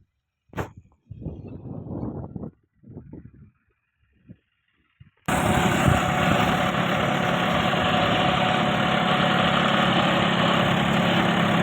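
A tractor sowing wheat in a field starts up after a few short knocks and rustles, then runs as a loud, steady, close engine drone for several seconds.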